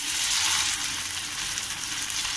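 Aloo poha cutlets frying in oil in a pan on medium heat, giving a steady, dense sizzle that runs unbroken and close throughout, with no voices.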